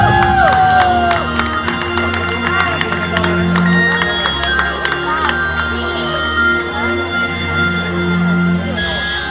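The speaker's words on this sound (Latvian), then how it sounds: "aplaus visiem jauniem riteņbraucējiem" Spectators at a youth mountain-bike marathon in Ādaži, Latvia, applaud and cheer young cyclists, with loud continuous clapping, shouts and children's voices close by, and talk mixed in.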